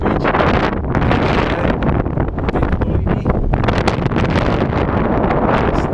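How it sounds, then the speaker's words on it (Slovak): Strong mountain wind buffets the microphone on a High Tatras hiking trail descending from Svišťovka toward Zelené pleso, a loud continuous roaring rumble with gusty surges throughout. "a ten silný vietor."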